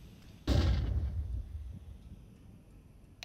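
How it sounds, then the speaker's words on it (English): A flashbang grenade in Counter-Strike 2 goes off once with a sharp, loud bang, then a rumbling decay fades over the next couple of seconds. "Deploying flashbang. Flashbang out."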